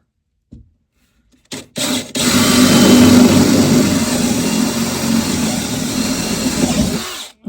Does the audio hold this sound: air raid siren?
no